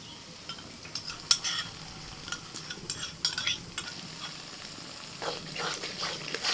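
Yogurt being stirred quickly into a spice masala in a pan for mushroom curry, heard as irregular scraping and clinking spatula strokes over a faint low sizzle, close and fairly quiet, no voices.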